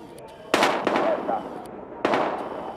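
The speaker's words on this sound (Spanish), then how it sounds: "Se oyen disparos." Gunfire in the video game Battlefield Hardline: a few sharp, separate shots ring out at moderate distance, with two stronger cracks about one and a half seconds apart and softer pops between them.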